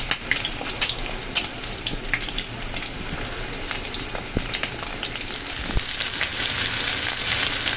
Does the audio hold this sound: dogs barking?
no